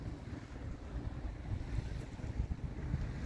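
Steady wind buffets the microphone on an ocean beach on Hatteras Island, a broad low rumble with surf noise beneath it that rises and falls but never stops, with no voices.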